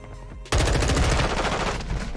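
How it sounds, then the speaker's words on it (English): Gunfire in the video game Modern Warfare 2 during multiplayer play, a loud burst starting abruptly after a moment of quiet and continuing as rapid sustained automatic fire at close range. "I shot him in his body. Shot him in the face."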